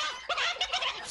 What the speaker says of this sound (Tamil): முரட்டு கோழியா இருக்கியே.